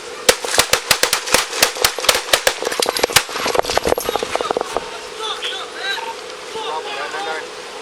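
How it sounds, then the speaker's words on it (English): Rapid burst of loud police gunfire during a bodycam-recorded standoff with an armed man in Phoenix, a dense volley of sharp close shots over the first few seconds, then quieter shouting voices and sirens. "The gun remains in Garcia's lap after the shooting."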